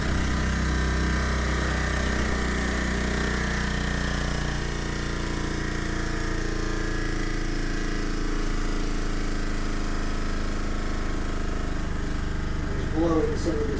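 A model steam engine runs with steady, dense mechanical chugging and a hissing edge, continuous and fairly loud throughout, puffing at a constant pace.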